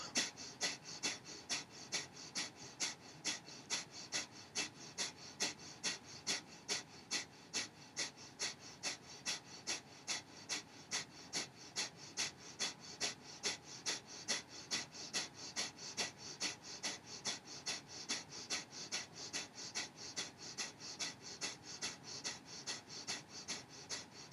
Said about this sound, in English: Strong, powerful breath.